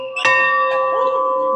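A bell at a railway museum is struck twice in quick succession, each strike leaving a clear, sustained metallic ring that hangs loudly in the air.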